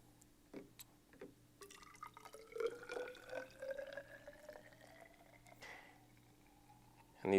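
Water trickles and drips into a graduated cylinder as amylase enzyme is diluted, a soft, close pouring sound with small splashes, fairly quiet, ending in a brief louder clunk.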